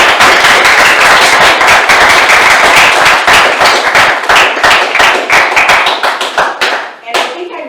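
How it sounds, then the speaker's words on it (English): Loud, close applause at a city council meeting, a crisp burst of many hands clapping in a quick, choppy rhythm that thins toward the end. "Could you please give them a round of applause"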